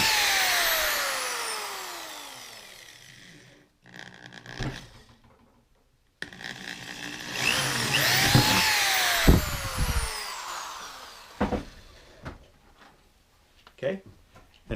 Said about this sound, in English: But first I'm going to put some holes in here to get my jigsaw started.